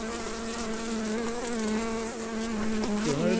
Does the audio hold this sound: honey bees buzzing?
yes